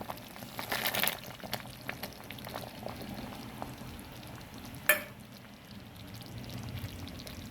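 Jackfruit payasam bubbling steadily in a pot as cashews and raisins go in, a soft continuous simmer with one sharp clatter midway, no voices.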